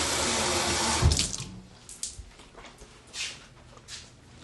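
A kitchen tap gushes loudly at first, then the flow stops and a few faint drips and clinks of a glass or sink follow in a quiet room.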